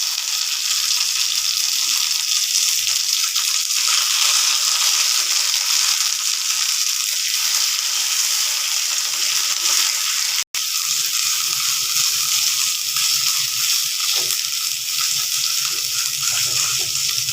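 Ground kharkol leaf paste sizzles steadily in hot mustard oil with black cumin seeds, a loud, continuous frying hiss throughout with faint stirring noises and no talk.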